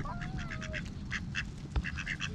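Ducks quack in short bursts while being fed bread outdoors, several rapid calls clustered together, moderately close, with a high whistling bird note at the start.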